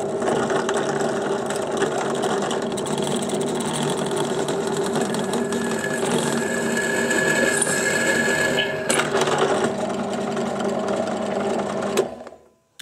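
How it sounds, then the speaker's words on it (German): An electric drill bores through steel sheet for a lab power-supply housing, a steady, loud mechanical whine with a rattling edge that runs for about twelve seconds and then stops abruptly. "So, die Bohrmaschine ist bereit."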